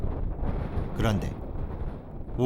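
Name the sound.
strong wind blowing in Antarctica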